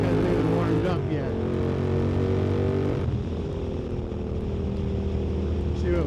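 A motorcycle, not yet warmed up, pulls away and rides off with a steady engine drone and rising revs and shifts, captured close by camera-mounted mics with wind rumble.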